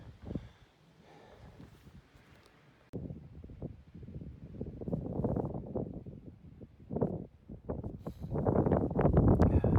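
Gusty wind buffeting the microphone on a winter hiking trail in the Rockies, rumbling in uneven surges that grow stronger and louder toward the end.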